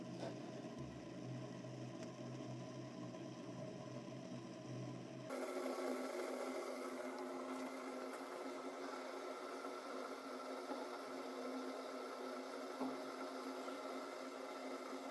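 An Arzum Okka Minio Turkish coffee machine brewing coffee gives off a steady, faint mechanical hum and whir that shifts to a brighter, hissier tone partway through, continuous and alone without talk.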